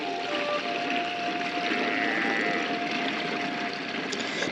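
Water sprayed onto seedlings on a smart-farming plot, a steady, hissing pour that runs evenly throughout, moderately loud and continuous with no voices.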